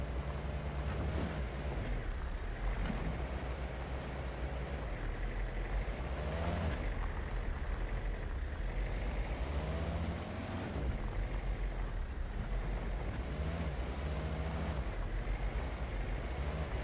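A Jeep in Way of the Hunter grinds through trees with a constant low engine drone, occasional squealing whines and brushing scrapes layered over the steady rumble.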